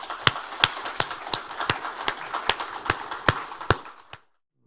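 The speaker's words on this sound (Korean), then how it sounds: "하나님 영광의 박수 올리겠습니다." Korean church congregation clapping in unison: about a dozen sharp, evenly spaced claps in a steady beat that stop abruptly, leaving silence.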